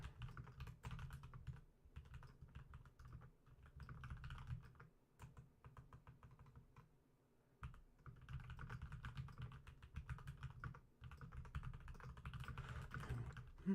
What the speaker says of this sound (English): So sorry for the typing.